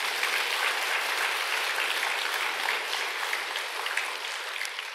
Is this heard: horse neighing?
no